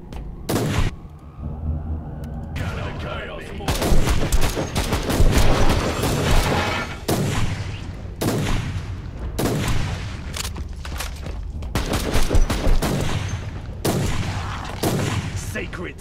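Sniper rifle fire in Warhammer 40k: Inquisitor Martyr, a dozen or so sharp, loud shots at irregular intervals, each a sudden broadband crack with a short tail, over a steady battle din with occasional talk.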